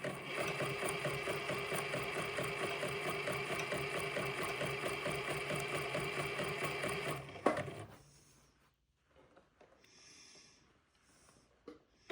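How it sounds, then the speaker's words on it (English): A sewing machine runs a narrow zigzag stitch along a sleeve edge, a rapid, even mechanical chatter for about seven seconds before stopping abruptly, followed by faint handling noises and near quiet. "I'm going to narrow up my zigzag width a little bit and take my stitch length down a little bit also"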